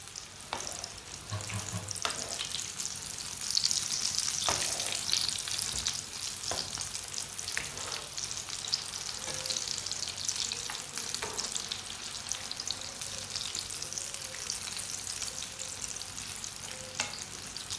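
Homemade kebabs fry in a pan on a stove over lowered heat, browning on one side, with a steady, dense sizzle throughout and a few scattered clinks.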